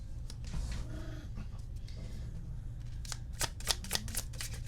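Tarot cards are shuffled up close, giving a soft papery riffle and rustle followed by a series of crisp flicks and slaps near the end, with no talking.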